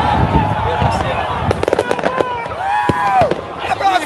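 Bombs exploding during a protest at the National Congress, with tear gas in the air: several sharp blasts crack through a loud crowd, and people shout and talk nearby.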